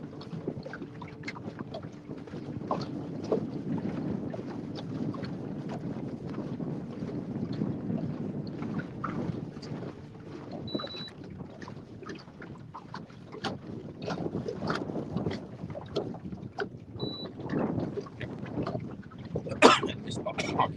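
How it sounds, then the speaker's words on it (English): Wind blowing across open water heard from a fishing boat on Louisiana water, a steady rushing buffet on the microphone with faint scattered knocks and occasional voices underneath. "The wind actually is blowing like straight this way."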